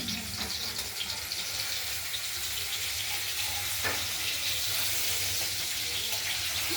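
Paneer pieces frying gently in a pan give off an even, close sizzling hiss that barely changes, with one or two faint clinks.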